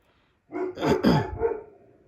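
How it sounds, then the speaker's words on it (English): A dog barks repeatedly in the background of an indoor room, a quick burst of several loud barks and yelps running together for about a second and a half, with no talk over it. "I apologize for y'all hearing the dog in the background."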